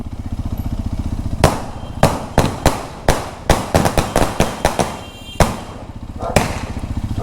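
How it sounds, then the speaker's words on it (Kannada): A string of firecrackers bursts in rapid succession, sharp loud bangs popping close by over a low idling Royal Enfield Bullet 350 engine, with a few scattered final cracks. "ನೋಡಿ ಸ್ನೇಹಿತರೆ ಹುಡುಗ ಪಟಾಕಿ ಹಚ್ತಿದ್ದಾನೆ"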